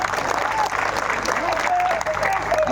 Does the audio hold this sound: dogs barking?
no